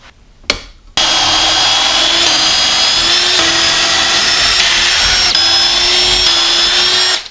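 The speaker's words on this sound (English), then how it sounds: "I'm going to use some pocket holes to attach this from up underneath" A power drill drives pocket hole screws into a wooden center console: a short burst, then a steady loud whine of about six seconds that rises slightly in pitch before stopping.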